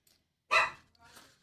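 A dog gives one sharp bark at moderate distance in a quiet room, followed by a softer, shorter second sound.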